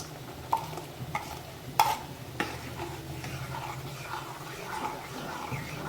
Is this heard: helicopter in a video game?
no